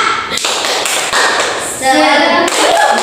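Fifth-grade pupils in an Indonesian language class clap a rhythmic chant together, loud, close taps in short bursts with children's voices chanting along.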